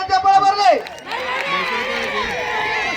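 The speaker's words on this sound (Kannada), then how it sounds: "ಒಂದ್ಸರಿ ಜೋರಾದ ಚಪ್ಪಾಳೆ ಬರ್ಲಿ." Audience at a women's kabaddi tournament breaks into a burst of clapping and cheering that sustains steadily after a brief voice at the start, with scattered shouts mixed into the crowd noise.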